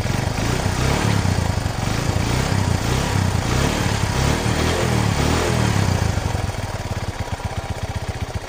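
A gasoline grass cutter engine drones loud and close while clearing thick grass, running at steady high revs with a rough throbbing texture, then easing slightly toward a lower, pulsing idle near the end.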